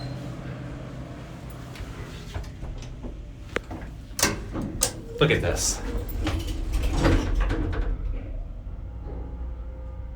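A heavy Otis elevator door grinding and clunking open on its track, a run of mechanical knocks and rumbling slides close by, with a person speaking briefly over it.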